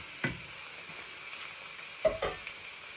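Pancit noodles fry in a pan while being tipped back together and stirred, a faint steady sizzle broken by a few brief scrapes and clatters of the utensil against the pan.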